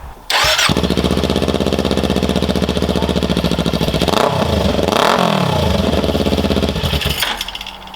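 A Kawasaki Ninja 400 parallel-twin motorcycle with an aftermarket slip-on muffler starts and idles with a rough, loud throb, revs up twice in the middle, then settles back before cutting off.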